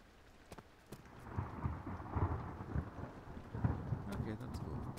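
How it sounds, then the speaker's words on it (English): Rain and rolling thunder in the Amnesia video game, a steady downpour with deep rumbles swelling and fading, moderately loud and continuous with no talk. "Oh, that's rain."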